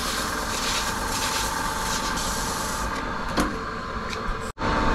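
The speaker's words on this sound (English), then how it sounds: "now while it's here, I can sand it to look a bit nicer." Sanding a custom-built heat exchanger part by hand, a steady broadband scraping rasp that runs continuously and close, briefly cutting out near the end.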